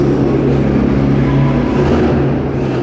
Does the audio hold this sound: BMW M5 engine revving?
yes